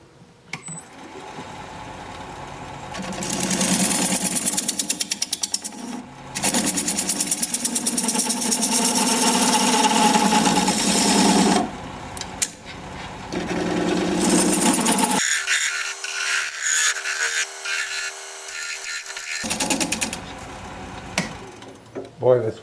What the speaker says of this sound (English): I'm going to switch to a 3/8 inch bowl gouge so that I can get in there a little closer.